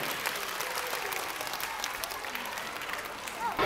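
Kindergarten children in a Keelung performance hall give steady, dense applause to welcome the performers at a children's theatre show, a sustained roomful of clapping that swells slightly at the end.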